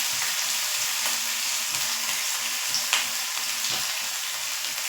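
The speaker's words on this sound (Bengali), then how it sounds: "এবার এই মশলাটা ভালো করে কষিয়ে নেব।" Ginger paste, turmeric and other ground spices sauté in hot oil, giving a steady close sizzle with occasional soft stirring scrapes and small pops, with no talk.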